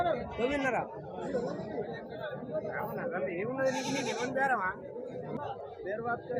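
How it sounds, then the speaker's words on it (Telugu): Goats and rams bleat repeatedly at a busy weekly village livestock market, wavering cries overlapping close by while people chatter and talk throughout. "పెద్ద సైజు పొట్టేళ్ళు పెద్ద సైజు మేకపోతులు పోతాయి ఇలా"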